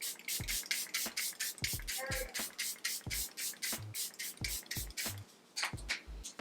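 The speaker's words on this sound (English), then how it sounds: "I'm going to spray with my Press Refresh to get rid of this powder" A string of short, breathy bursts of e.l.f. Power Grip setting spray misted onto a face close by, some in quick pairs, with a soft rubbing hiss underneath and no speech.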